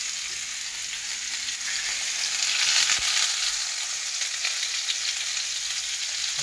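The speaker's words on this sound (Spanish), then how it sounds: "Dorando nuestro salmón." Salmon browning in a pan with BBQ sauce, a steady close sizzle and crackle that runs unbroken throughout, with a faint scrape of stirring partway through.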